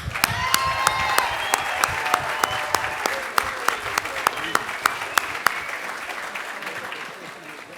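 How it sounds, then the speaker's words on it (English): Graduates at the Penn State Lehigh Valley 2022 commencement receive a sustained round of crowd applause that slowly fades, with a voice speaking over it. "I want to give you another round of applause."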